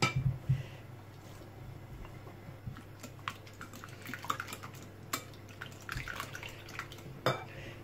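Prepared onion goes into a pan for a Spanish omelette, giving soft kitchen clatter of pots and utensils with light scraping and stirring, a few sharper clinks against a low steady hum.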